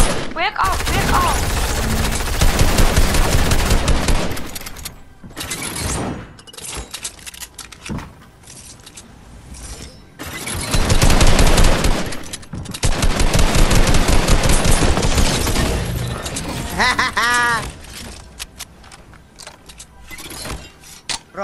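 Bursts of rapid automatic gunfire in Fortnite, loud and close, come in several long volleys separated by short lulls, with a few whooshing game effects near the end.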